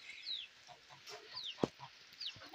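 Chickens on a farm with goats, soft intermittent clucks and short calls at close range, one sharp louder cluck midway, no talking.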